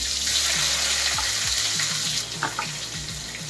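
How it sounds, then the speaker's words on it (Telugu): Onions and green chillies sizzle loudly in hot oil for a tempering. A dense, steady hiss runs throughout, with faint lower tones beneath it. "తాలింపు వేగిన తర్వాత ఇప్పుడు చిటపటమన్న ఉల్లిపాయలు, అలాగే పచ్చిమిర్చి"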